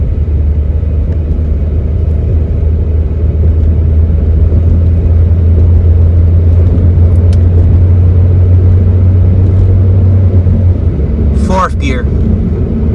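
A high-mileage car with freshly changed transmission fluid drives along while upshifting, a steady loud engine drone and road rumble filling the cabin, with a brief clatter near the end.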